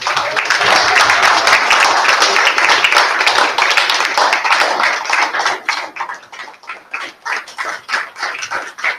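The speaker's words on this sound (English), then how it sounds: "I'm waiting for your clapping as well." An audience at a postgraduate colloquium claps loudly and densely, a sustained wash of applause that thins into scattered, irregular claps toward the end, with no talking over it.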